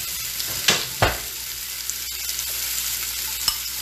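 Zucchini sizzles in a hot pan, a steady crackling hiss close by, broken by a few sharp clatters and pops as the pieces are moved, with no one speaking.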